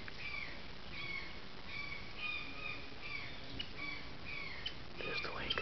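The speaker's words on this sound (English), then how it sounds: "You can hear the birds." Birds call outdoors along a walkway at La Lancha by a lake: repeated high chirps and squawky calls come from a moderate distance over a steady background hiss.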